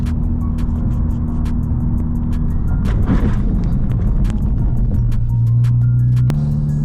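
A tuned 2017 Honda Civic Type R cruising on a night drive, with a steady engine drone and road rumble heard from inside the cabin. The engine pitch shifts near the end and regular ticking clicks run throughout.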